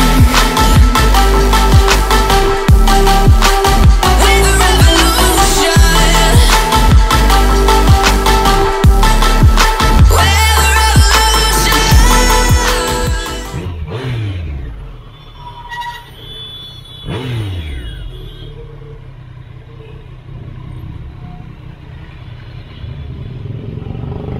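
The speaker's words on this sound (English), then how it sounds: "So this is a 3-cylinder engine" A loud three-cylinder motorcycle engine revs hard with rough, throbbing pulses, then cuts back to a lower idle with occasional clatter.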